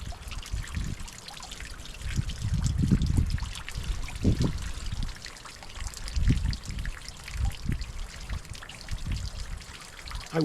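Water trickles and sputters out of a pressurized wooden pipe, a continuous close splashing dribble with irregular surges and gurgles.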